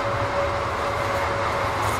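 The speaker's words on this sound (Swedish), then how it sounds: "Det åker tåg förbi här." A train passes by outdoors with a steady rumbling roar and a faint sustained tonal whine, moderately loud and continuous, with no speech over it.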